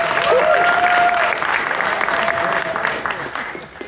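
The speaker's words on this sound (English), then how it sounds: "I think that was actually sincere applause here" Sustained audience applause at an unconference discussion, a broad crowd of clapping that starts strong and slowly tapers toward the end, with faint voices mixed in.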